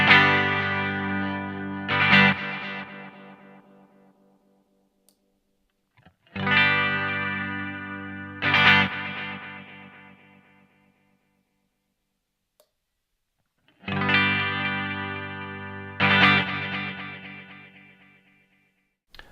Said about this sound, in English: So you can hear that modulation occurring.